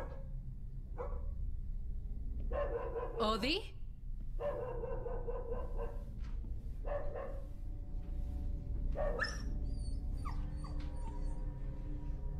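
A dog barks in short separate bursts, with whimpers and yips between them and a high squeal near the end, heard fairly close against a constant low background hum.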